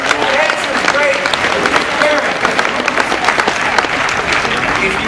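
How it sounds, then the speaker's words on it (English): Audience at a live special effects stage show breaks into sustained, loud applause, a thick steady roar of clapping with faint cheering mixed in throughout. "Give her a big, big round of applause."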